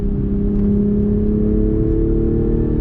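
A 2021 Toyota GR Supra driving, its engine droning loud and steady from up close with strong low harmonics, a faint rise in revs and small exhaust crackles buried in the sustained roar.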